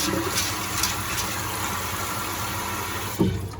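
Dal pulses rinsed under running water in a home kitchen, a steady, close rush of flowing water with light splashing and a brief clunk near the end, with no talking.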